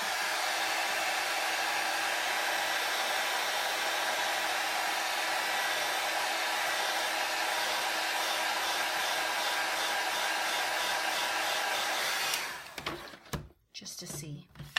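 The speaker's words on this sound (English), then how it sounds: "I'm going to hit it with my embossing gun" An embossing heat gun blows hot air in a loud, steady, close whoosh that holds for about twelve seconds, then cuts off, leaving a few handling knocks.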